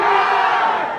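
A crowd at a devotional gathering shouts a loud, sustained collective cheer for the goddess Durga, voices blending into one close, strong roar that fades slightly at the end.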